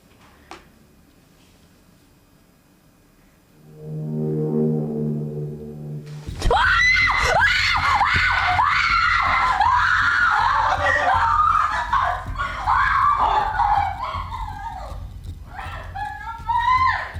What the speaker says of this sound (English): The woman screams, panics, and runs away.